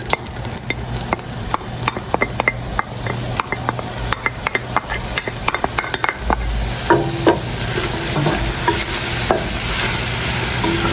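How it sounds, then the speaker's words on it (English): Dhania, hot pepper, garlic and onions sauté in coconut oil with a loud, continuous sizzle, cut by a steady run of sharp spoon scrapes and clacks against the pot. "And we're gonna go ahead and saute that up."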